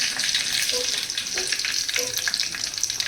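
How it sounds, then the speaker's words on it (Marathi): Mustard seeds and curry leaves sizzle steadily in hot oil while cooking a spicy katachi amti, a continuous bright crackling hiss with a few faint pops and clinks, close and fairly loud. "मोहरी टाकायची, कढीपत्ता टाकला,"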